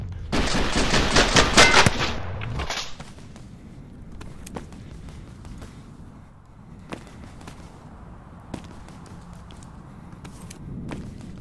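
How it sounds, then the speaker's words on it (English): Video game gunfire opens with a loud, dense burst of rapid automatic shots lasting about two seconds. Faint scattered shots and clicks follow at a distance and continue through the rest. "Whoa, he's still shooting me."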